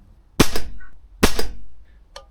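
Two sharp air rifle shots fire pellets close by, each a hard crack with a brief ringing tail, followed by a small faint snap near the end; the rifle is out of its stock and vibrating.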